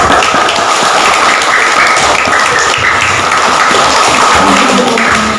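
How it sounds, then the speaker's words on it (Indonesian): Loud, continuous applause for MI Al-Jabar from a school crowd at an Isra Mi'raj commemoration in Bali, a dense wash of clapping that stays constant throughout, with faint voices and children's chatter underneath. "Tepuk tangan buat MI Al-Jabar"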